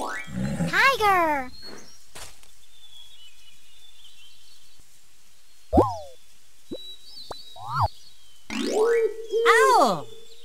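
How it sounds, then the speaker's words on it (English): A tiger lets out a loud, harsh snarling roar, followed by quieter pause, a few brief falling cries and short knocks, then another drawn-out growling roar near the end, close and unaccompanied by talk. "Tiger."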